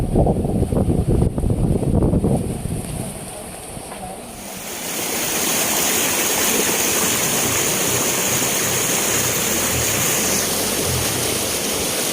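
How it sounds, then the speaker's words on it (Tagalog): Floodwater after a typhoon in a rural province, a loud continuous roar of rushing water that swells after a brief dip and then holds steady and close, with no talk. "grabe ang baha"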